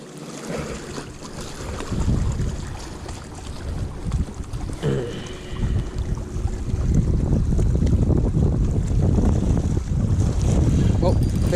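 Boats on open water during a fishing outing, one being towed in, rumble steadily under strong wind noise buffeting the microphone, growing louder and denser in the second half, with voices talking over it.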